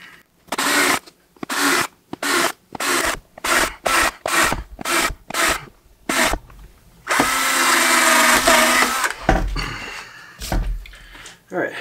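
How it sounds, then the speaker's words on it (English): A power drill bores a series of holes through wood for a homemade bowed guitar, about a dozen short rhythmic whirring bursts with brief pauses, then one longer grinding run, loud and close. "So that's all the holes drilled."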